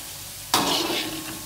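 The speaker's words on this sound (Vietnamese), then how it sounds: "Rồi mình chiên chừng chút xíu ha, là đậu của mình nó sẽ vàng." Peanuts fry and get stirred in a pan over low heat, a sudden scraping stir giving way to a soft, steady sizzle heard close with no talking.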